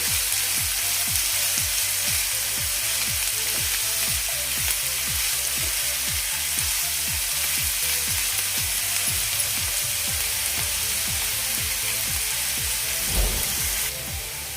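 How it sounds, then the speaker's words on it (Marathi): Onions fry in a pan until transparent for an egg ghotala dish, a steady close sizzle with a regular ticking of stirring strokes running throughout, with no talk. "इथे कांदा ट्रान्सपरंट होईपर्यंत आपण फ्राय करून घेणार आहोत परतून घेणार आहोत"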